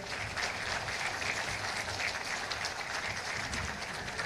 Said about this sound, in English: a louder clap for the Honorable Minister